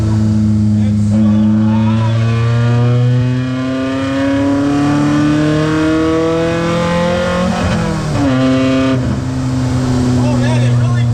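A Volvo 740 drift car with welded diffs pulls hard from inside the cabin, its engine revving loudly and climbing in pitch through the gears with a brief dip at a shift, as a driver talks over it.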